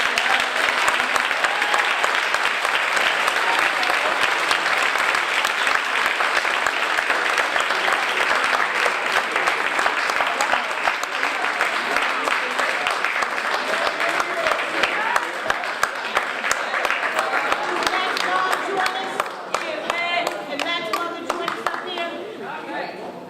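Audience at an awards ceremony for a $1,000 scholarship, giving sustained loud applause with dense clapping and some chatter, tapering off toward the end.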